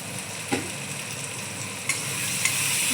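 Turmeric, salt and other spices being stirred and fried in a pan for aloo dum, giving a steady hissing sizzle with a few sharp spatula scrapes.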